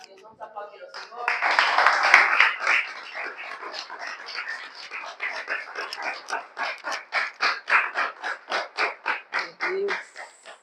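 A small gathering at a morning church coffee meeting claps for the Lord, starting as a burst of applause and slowing into rhythmic, evenly spaced claps near the microphone.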